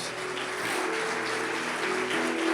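Church congregation applauding during a worship service, a dense, steady wash of clapping filling the whole stretch at a fairly even level without pause.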